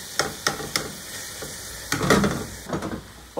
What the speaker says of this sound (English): Okay, so we have the bacon cooking.